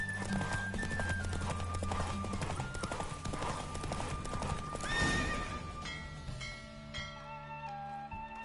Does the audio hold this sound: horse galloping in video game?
yes